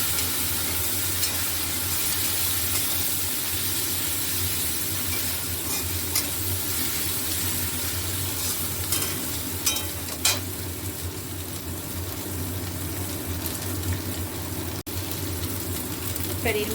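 Spice paste fries in a pan under a steady, dense sizzle, with occasional scrapes and knocks from stirring, while a voice speaks faintly over the cooking noise.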